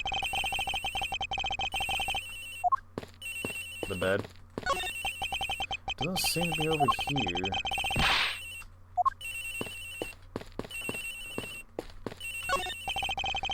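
A cell phone ringtone at a crime scene in the Ace Attorney Investigations video game, repeating in bursts with short gaps, while voices talk over parts of it.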